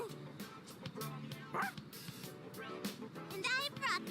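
Koromaru the dog in the Persona 3 Reload video game gives a string of excited yips, short barks and whimpers, close and fairly loud, with a brief high whine near the end.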